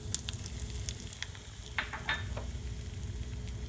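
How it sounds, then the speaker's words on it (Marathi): Mustard seeds crackle and sizzle in two spoons of hot oil in a kadhai for tempering, a soft continuous fry broken by sharp scattered pops, faint and close, with no talk. "मोहरी तडतडल्यावर त्यात हिंग टाका"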